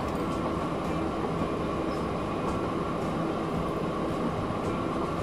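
An Amtrak train passing in the Transport Fever game, a steady rumbling roll of rail wagons with a faint whine, constant and even throughout, no talking.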